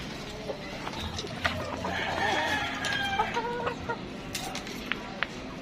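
Chickens cluck and chatter in a busy flock, with a few sharper calls popping out over a steady outdoor background.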